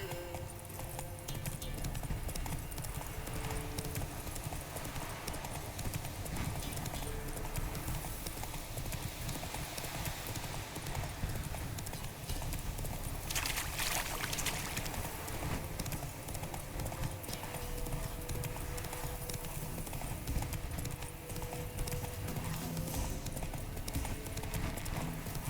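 Steady hoof clip-clop of a horse galloping in The Witcher 3 video game, continuous and fairly loud over game ambience for the whole stretch, with no talking.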